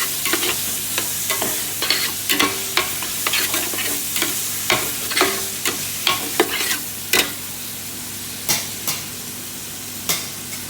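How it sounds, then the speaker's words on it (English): Minced lamb cooking over a slow fire, with a steady low sizzle under repeated sharp scrapes and knocks of a utensil stirring the meat in the pan, close and fairly loud, no voices. "You have to cook the meat in a slow fire"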